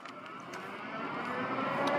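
Radio Flyer Cargo L885 electric bike accelerating on throttle alone, a faint, steady motor whine that slowly grows louder and higher over the run.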